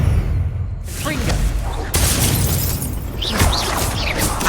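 A Confringo blasting spell explodes in the video game Hogwarts Legacy, with loud crackling bursts and sharp pops over a dense rumbling din, mixed with game effects and short vocal sounds.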